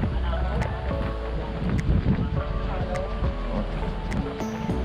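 Strong wind buffets the microphone over the steady rumble of a fishing boat on rough sea with big waves, approaching a pier off Atimonan, Quezon, with voices talking now and then.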